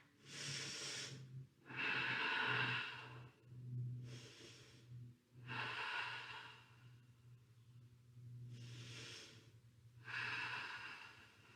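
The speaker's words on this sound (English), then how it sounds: "Two more deep breaths." Slow, deep breaths during a core yoga flow, about six long inhales and exhales in an even rhythm, close and fairly quiet with no talking.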